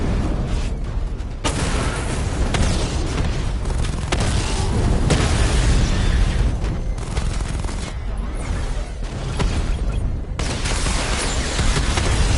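Dense barrage of booming explosions from a Batman: Arkham Knight tank battle, rolling continuously and loudly in overlapping bursts with heavy low-end rumble and no gaps.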